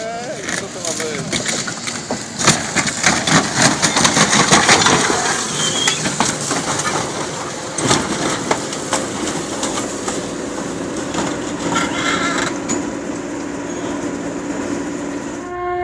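A staged collision between a train and a car by emergency services, with rumbling rail noise, a horn and grinding, crushing metal, loud and up close, with voices talking through it.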